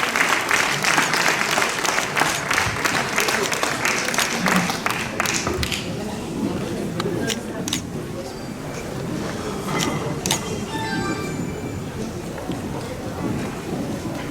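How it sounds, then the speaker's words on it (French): An audience at a theology institute graduation applauds, a broad wash of clapping that is loud at first and thins out over about fourteen seconds, with scattered voices and whistles. "Applaudis Dr. Michel pour nous, s'il vous plaît."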